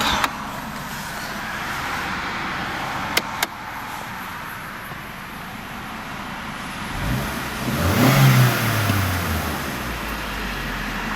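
The 1.2-litre 16-valve engine of a 2002 Opel Corsa C idles steadily, then revs up once in a short swell of rising pitch before settling back.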